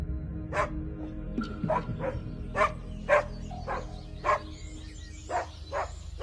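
A dog barks in a steady series of about a dozen sharp, evenly spaced woofs, fairly close, over a low rumbling background with a few softer yips mixed in.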